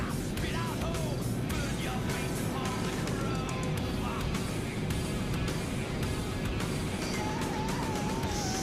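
Street race cars in GTA 5 online, a dense continuous roar of engines with rising and falling whines as the cars run side by side, loud and unbroken, with voices mixed in.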